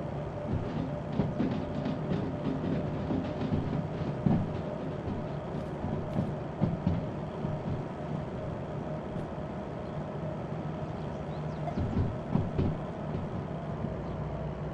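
Train hauled by two locomotives in the railway simulator Derail Valley: a continuous rumbling, droning run with rolling wheel clatter and faint intermittent clanks, steady and fairly close throughout.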